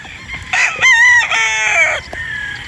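A rooster crows loud and close in a single drawn-out cock-a-doodle-doo among broodstock gamefowl, with a few soft clucks around it.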